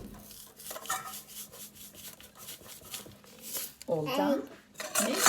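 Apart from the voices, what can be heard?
child stirring pancake crepe batter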